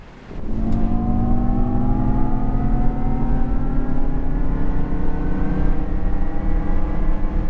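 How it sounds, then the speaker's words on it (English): Synthetic drive sound of a Jaguar I-PACE electric car in dynamic mode, a loud steady tonal whir with rising layered pitches as the car accelerates, continuous after a brief quiet start, no talking. "if you want to get the full I-PACE experience and get the full sound that the car makes, you best turn the drive mode selector over to dynamic as well"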